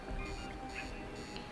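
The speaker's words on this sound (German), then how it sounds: "Sie wurden alarmiert." A repeating electronic alarm tone from the video game Batman: Arkham Asylum, pulsing in roughly even bursts about every half second over steady game background sound.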